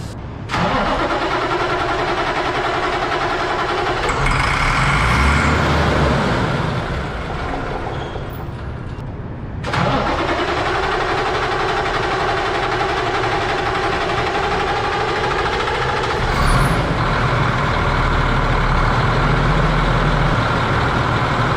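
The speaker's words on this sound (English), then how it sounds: "I gotta load some crates on there, but this truck won't start." An old flatbed truck engine that won't start cranks steadily for several seconds, pauses, cranks again, then catches and runs at a rough idle, loud and close with no talk.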